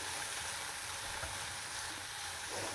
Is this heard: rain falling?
no